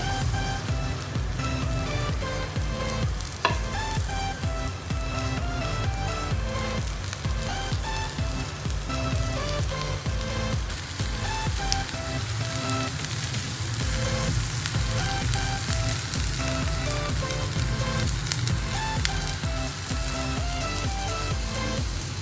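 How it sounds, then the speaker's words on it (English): Mushrooms fry in a pan with a constant, even sizzle and crackle that holds steady throughout, fairly loud and close, with no one speaking. "I'm going to put all my mushrooms inside the pan."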